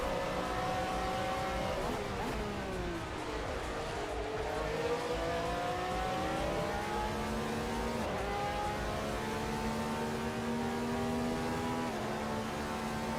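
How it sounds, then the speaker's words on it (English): Race car engines in the racing video game Assetto Corsa drone steadily, with a rising and falling engine tone shifting through gears, fairly faint under a continuous background. "we've gone back to V12 biofuel engines, and your car has to be of a certain noise value"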